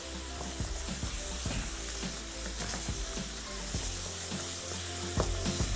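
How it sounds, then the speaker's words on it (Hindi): Masala roasting in a pan with green chilli, ginger and coriander, a strong continuous sizzle overlaid by regular spatula scrapes and taps about every half second, close and fairly loud throughout. "यहाँ इस मसाले की हमने भुनाई करनी है। साथ में ये हरी मिर्च भी हम शामिल कर देंगे, थोड़ी सी अदरक, थोड़ा सा धनिया"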